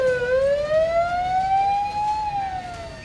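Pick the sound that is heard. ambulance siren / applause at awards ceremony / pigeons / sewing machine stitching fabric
ambulance siren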